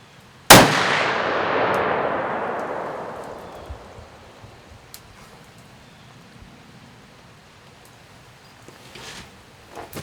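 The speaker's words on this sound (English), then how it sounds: "And we're ready to shoot the second gun at 50 yards." A single loud shot from a CVA Scout V2 muzzleloader rifle converted to smokeless powder, fired at a 50-yard target. It gives one sharp crack followed by a long, fading outdoor echo, with no speech.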